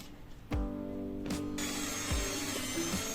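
An electric hand beater whips 1.5 cups of whipping cream for a honey cake, giving a steady, close motor whir with harmonic tones and small surges in pitch as it works through the cream.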